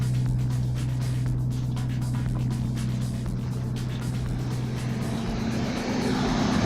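A Toyota 7M-GTE engine in an MZ21 idles steadily after its first start in 13 years, a low, even hum with a constant tone and no talk.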